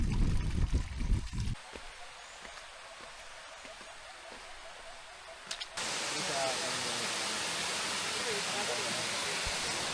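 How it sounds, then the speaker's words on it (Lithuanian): Water running through an irrigation channel over smooth, worn rocks: a quiet start with a few low thumps, then a loud, steady broadband rush from about six seconds on. "Va čia drėkinimo sistema, kaip visas vanduo kaip ir bėga taip ir praeina."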